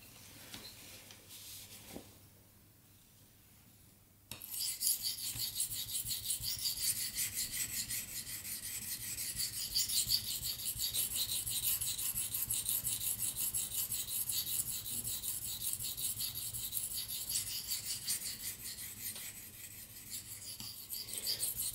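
A knife blade being sharpened by hand on a stone, steady rasping strokes at a constant angle that run continuously after a brief quiet pause, close and fairly loud with no talking.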